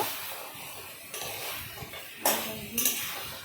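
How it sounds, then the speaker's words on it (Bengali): Chicken is stirred with ginger paste in a metal pot, soft scraping and a few sharper clinks of a spoon against the pot over quiet background, no talk. "আদা বাটাটা দিয়েও আমি এটাকে ভালো করে মিশিয়ে নিব।"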